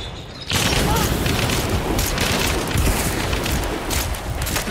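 A dynamite blast in Hunt: Showdown erupts suddenly after a quiet moment, then continues as a loud, sustained rumbling roar with crackling debris.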